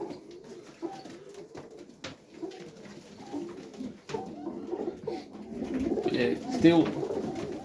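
Pigeons coo softly in a loft on a frosty winter feeding day, a steady low cooing that rises toward the end, while someone talks over it.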